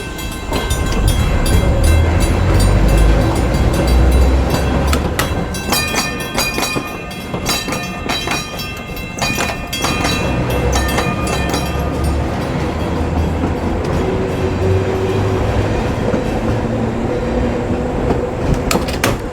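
A trolley car runs along a former Pennsylvania Railroad branch right-of-way at the Pennsylvania Trolley Museum, with steady loud rolling rumble, wheel clatter and rail squeal throughout, close and continuous.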